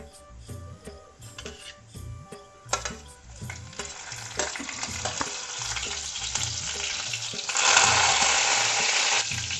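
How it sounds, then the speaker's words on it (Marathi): Cumin seeds sizzling in hot oil for soya chunks bhurji, a close crackling fry that swells into a loud steady sizzle with intermittent stirring taps, no talk. "जिरं टाकून घेणार आहे।"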